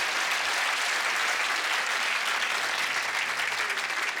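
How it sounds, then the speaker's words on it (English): A comedy show audience applauds steadily and densely throughout, a full wash of many hands clapping with no voices on top. "Happy claps."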